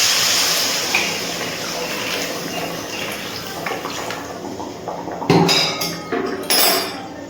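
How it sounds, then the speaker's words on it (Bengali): Pabda fish curry being stirred in a pot after hot water is added, over a high gas flame: a steady wet simmering wash with a few sharp clinks of the spoon against the pot near the end. "ভালো করে মিশিয়ে নিচ্ছি।"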